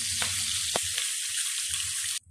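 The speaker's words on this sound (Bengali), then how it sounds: "এখানে হলো ফাঙ্গাস মাছ ভেজে নিচ্ছি" Pangas fish fries in a pan of oil, producing a loud, steady hissing sizzle with a few sharp spatters, ending abruptly.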